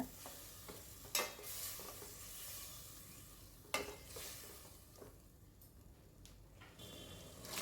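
Ground tomato is stirred into a Tamil kadalai brinjal curry frying in a pan, giving a soft continuous sizzle with occasional sharper scrapes and clinks of the spoon against the pan, quiet and close.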